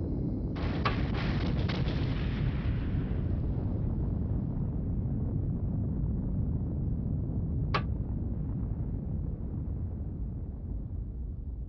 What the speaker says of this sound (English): Con, sonar, loud explosion bearing